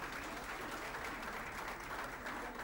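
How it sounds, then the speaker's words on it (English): Audience applause fills a church pavilion, a steady, dense wash of many hands clapping together at an even level from start to finish, with no pauses. "Let's clap for them."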